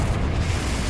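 Confringo blasting spell going off in the Hogwarts Legacy video game, a loud, dense, rumbling blast of low booming energy that fills the whole moment without a clear break.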